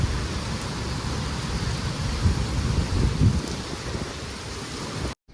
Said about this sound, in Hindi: इतनी जोर की आंधी और गला बूंद आ रही है